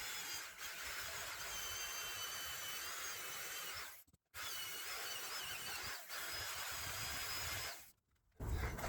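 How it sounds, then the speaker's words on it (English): Power drill boring a 3/4 inch hole for a helical ground screw on a leaning retaining wall, a steady high whining drone running in long bursts with two brief pauses. "drill a 3/4 inch hole, kind of parallel at the top."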